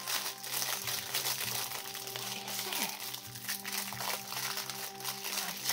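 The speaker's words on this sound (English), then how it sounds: "I know, lots of crinkling." Plastic packaging from a Wish order crinkles and crunches continuously up close as someone struggles to open it, a busy rustle that fills the whole stretch with no voices.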